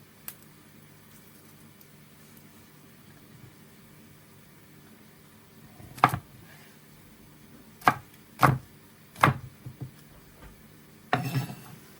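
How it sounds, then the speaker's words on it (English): A knife dices garlic on a cutting board: sparse, sharp chops in a loose, uneven rhythm that cluster toward the end, close and crisp against a quiet kitchen background. "Finished dicing my garlic now"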